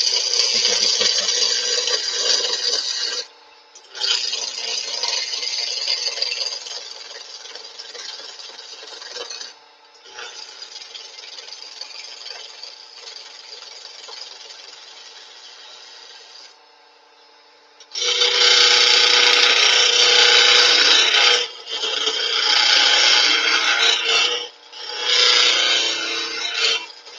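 A skew chisel cuts a spinning piece of wood on a lathe, producing a loud continuous shaving hiss in long passes broken by short pauses, with the last few passes harsher and louder.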